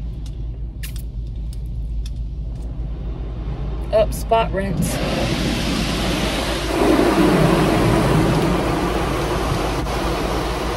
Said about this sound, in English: The machine is cleaning Mommy's car.